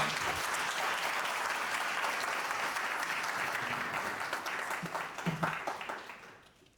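Listeners at a youth forum applaud a speaker in a steady, full round of clapping that gradually breaks into scattered claps and fades out at the end.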